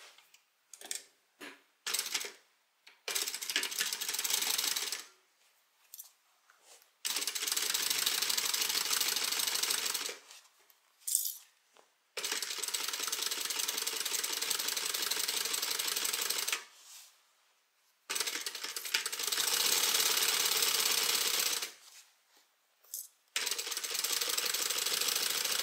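Sewing machine stitching the side seam of a tote bag, running in long steady bursts of several seconds separated by short pauses and brief stop-start runs, close and fairly loud.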